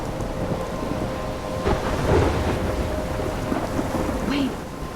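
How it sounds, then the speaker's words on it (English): A thunderstorm in the video game Life is Strange: steady heavy rain hisses throughout while thunder rumbles and swells in the middle, loud and close. "I'm trapped in a storm?"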